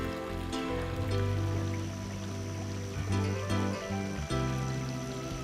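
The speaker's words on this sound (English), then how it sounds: "the rush of the water, the sounds of the falls, and the movement of the fish" Garden pond with a waterfall feature, water rushing and splashing steadily at moderate distance, a continuous soft wash with small trickling variations, no voices.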